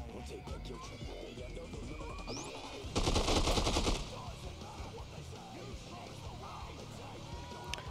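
Gunfire in the Dead Rising 2 food court aimed at the chef, one short dense burst of about a second standing out over busy game ambience and muffled voice-like sounds.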